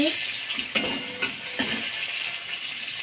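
Garlic and onion dropped into a little hot oil in a pan, giving a soft steady sizzle with a few sharp clinks and stirring scrapes, close by.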